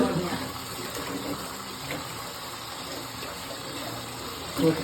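Running water rinsing food, a steady close gush from start to finish with a brief splash near the end.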